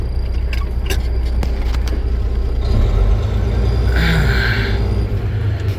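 A truck hauling wood pallets maneuvers while backing toward a loading dock door, its engine giving a loud, close, continuous low rumble with faint rattles and a brief higher whine near the end.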